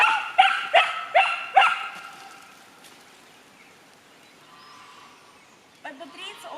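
Several dogs excited for treats during leash training bark in four quick, loud, evenly spaced bursts, then fall quiet before a few softer yips return near the end.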